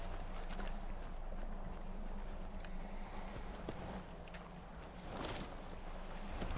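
Hooves of a horse being ridden in Skyrim, a steady rhythmic clip-clop under a constant ambient wash, moderately close and unbroken throughout.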